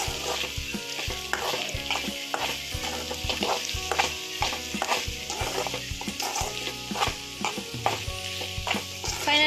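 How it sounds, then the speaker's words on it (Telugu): Bread roast mixture fries in a pan with steady loud sizzling, broken by repeated clinks and scrapes of a spoon stirring against the metal throughout. "ఇది వేసి కాసేపు ఫ్రై చేయిద్దాం ఒక్క నిమిషం పాటు వేయించుకుందాం"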